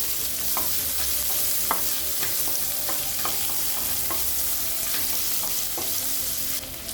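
Onion and asafoetida fry in hot oil for a South Indian buttermilk curry, giving a steady close sizzle with light scrapes of a spoon stirring the pan every second or so, no voices.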